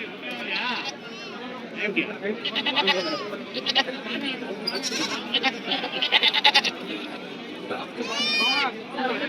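Several goats and sheep bleat repeatedly over a busy crowd at a livestock market in Konganapuram, Salem, with people chattering and calling in the background.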